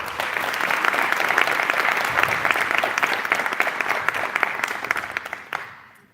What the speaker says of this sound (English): We'll give them a big applause.